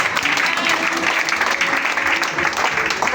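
A church congregation at a deliverance prayer service applauds and acclaims, dense continuous clapping with cheering voices, steady and loud throughout.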